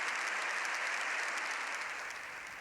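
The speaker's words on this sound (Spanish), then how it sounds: "todas sus señorías han aplaudido puestas en pie" Sustained applause from a large crowd of parliament members on their feet, dense and steady, fading slightly toward the end.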